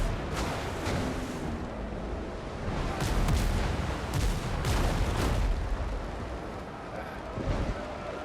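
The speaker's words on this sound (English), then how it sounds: "always try to target your cannons on the stern of the vessel" Cannon fire aimed at a ship's stern in a naval sailing video game: several booming shots in uneven succession over a rumbling battle backdrop, with a couple of quieter reports near the end.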